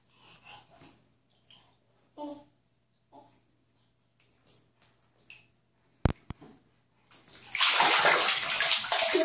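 A small child splashes water in a bathtub: scattered soft splashes and breathy sounds at first, a couple of sharp knocks, then a sustained loud sloshing burst of water at the end.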